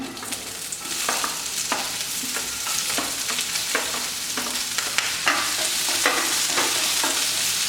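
Onion, green chilli and cloves sautéing in hot oil for tomato soup, a constant close sizzle broken by regular spatula stirs and scrapes. No voices.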